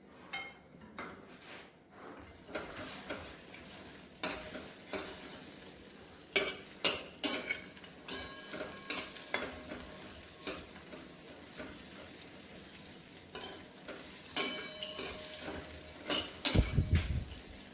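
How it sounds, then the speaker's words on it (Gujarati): About 200 grams of cashews roast in butter in a pan over a low flame, giving a quiet, steady sizzle, while a utensil scrapes and stirs them in irregular taps. "તેની અંદર 200 ગ્રામ જેટલા કાજુ એડ કરીને તેને શેકી લઈશું"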